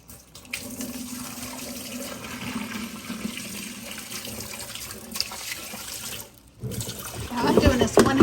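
Turkey brine poured slowly from a container through a strainer into a kitchen sink, a steady splashing, gurgling stream of water throughout, growing louder near the end.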